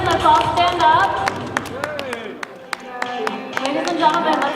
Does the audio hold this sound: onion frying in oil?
no